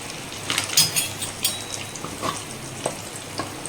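Masala frying in butter over a high flame while paneer tikka is cooked for a lunch box, giving a steady low sizzle broken by scattered clinks and scrapes of a utensil stirring in the pan.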